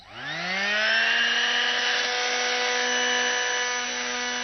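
An electric sander spins up and holds a steady high-pitched whine, loud and close, while being used to trim a goat's hoof; no voices.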